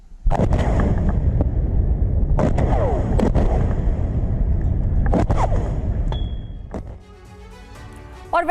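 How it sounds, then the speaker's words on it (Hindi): Iranian-made Fateh-110 and Zulfiqar missiles fired in a test launch, heard as a loud, sustained roaring blast with several sharp bursts, fading into a quieter rumble near the end. "फतेह 110 और जुल्फिकार मिसाइल का परीक्षण किया है"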